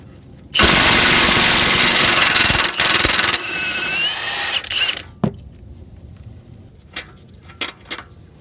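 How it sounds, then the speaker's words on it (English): An impact wrench removes a bolt from a BMW E46 ZHP front strut in one loud, close, rattling burst of about four seconds, followed by the clank of metal parts and a few sharp knocks. "You'll feel it when it goes in, and then you could just impact it off."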